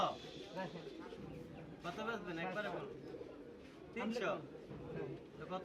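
Pigeons coo softly amid a busy bird market in Saruliya, Bangladesh, with several people talking close by over the birds as they haggle over prices.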